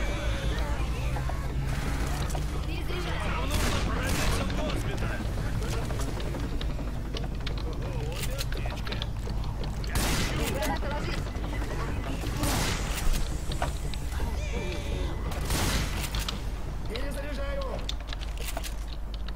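Left 4 Dead 2 gameplay in which constant gunfire and chaotic combat noise crack in dense rapid bursts, with loud shots over a continuous clamor and voices mixed into the din.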